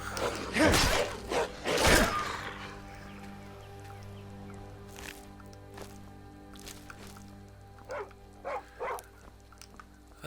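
Wolves barking in a video game, several sharp loud barks up close in the first two seconds, then a few quieter, more distant yelps later over a steady game background.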